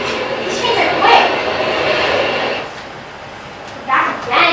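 Fast trains running back and forth past the listener, a broad rumbling rush that swells and fades over several seconds, with people talking over it.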